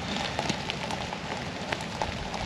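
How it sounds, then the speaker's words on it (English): Rain beginning to fall on a woodland stealth camp, a dense steady patter of drops on surfaces with scattered sharper taps, continuous and fairly close, with no talking. "Rain is now starting to come down."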